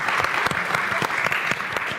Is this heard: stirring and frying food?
no